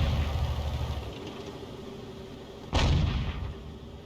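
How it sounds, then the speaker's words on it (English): StuG III Ausf G tank in World of Tanks firing its gun; a single loud, sudden boom cuts through a steady engine rumble partway through, then decays back into the idling drone. "He's now blind firing the same spot where the StuG III B was last seen"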